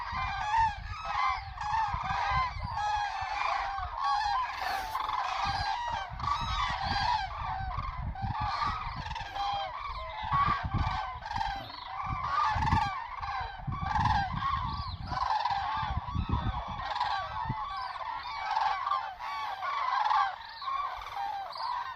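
A flock of cranes, frightened by fireworks, circles in the dark, trumpeting and honking to one another in dense, overlapping calls that continue nonstop at moderate distance.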